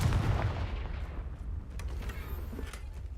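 A Confringo spell blast in Hogwarts Legacy lands as a deep booming explosion at the start, fading into a rumbling decay.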